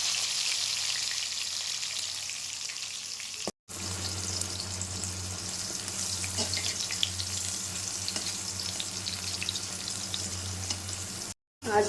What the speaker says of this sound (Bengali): তেল গরম হয়ে গেছে এখন আমি পটলগুলো ভেজে নেব